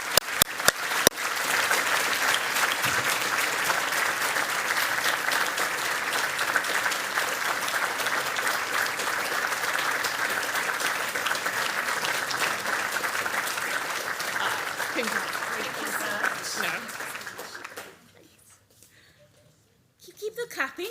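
Lecture audience applauding during a certificate presentation, a dense sustained clapping that fills most of the clip before fading out abruptly, with a few voices in the background.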